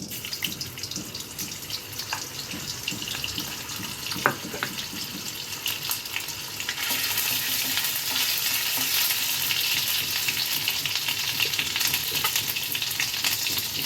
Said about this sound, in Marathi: आपल्याला ह्या हलक्या भाज्या फ्राय करून घ्यायच्या